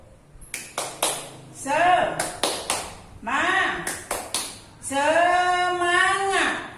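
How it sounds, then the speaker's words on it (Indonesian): Children in a classroom perform a rhythmic spirit clap, with quick clusters of crisp claps alternating with loud chanted words in a call-and-response pattern. "Ayo kita tepuk semangat dulu"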